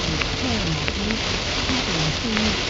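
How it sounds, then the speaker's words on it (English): Heavy rain pours steadily during a Wisconsin lightning storm, a dense continuous hiss heard from inside a moving car, with people talking over it throughout. "Listen to that rain."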